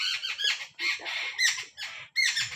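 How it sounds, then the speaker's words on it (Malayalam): Birds squawking in harsh scolding bursts at a cat, several sharp repeated calls in quick clusters with short gaps, fairly close and clear. "കിളികളെല്ലാം കൂടി ചീത്ത പറയണ കേട്ടോ"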